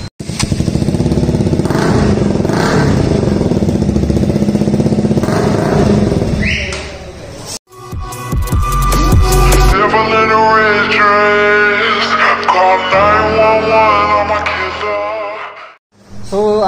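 A KTM RC 125 motorcycle fitted with an Akrapovic exhaust runs loud and close, a steady raspy engine note that cuts out briefly, then rises through revving and gear changes as the bike rides off, with no talking.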